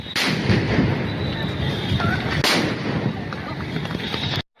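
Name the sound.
sound grenades exploding at Dhanmondi 32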